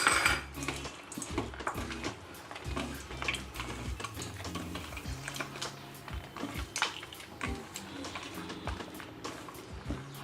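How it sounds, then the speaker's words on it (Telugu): Tamarind pulp for pulihora prasadam mixed by hand in a vessel, with close, quick, irregular clinks and knocks of the container throughout and a quieter wet bed of movement between them. "ఈ చింతపండు గుజ్జుని నేను చేతితో కలిపేస్తున్నాను."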